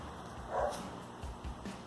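A dog makes a brief, soft vocal sound, like a whimper or a low yip, close by in an otherwise quiet room.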